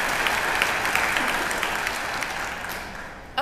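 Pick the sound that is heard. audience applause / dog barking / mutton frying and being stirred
audience applause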